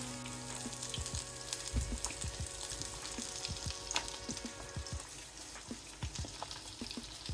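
Quail eggs fry in a pan with a steady, close hiss and sizzle, broken by scattered soft pops and spatters throughout.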